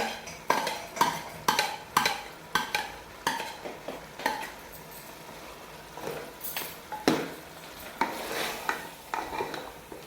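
Chicken karahi with chopped green chillies is stirred in a cooking pot, a metal spoon scraping and clanking against the pot in repeated close strokes over a soft sizzle.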